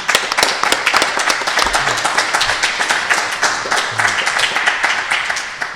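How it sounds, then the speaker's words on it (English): A small audience at a Chicago panel event claps for the moderator, sharp distinct hand claps close by in a quick irregular patter that thins slightly toward the end. "Let's give it a nice round of applause to Ben for moderating today."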